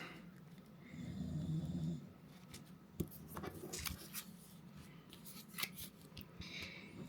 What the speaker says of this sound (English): you hear snoring in the background, that is actually my English bulldog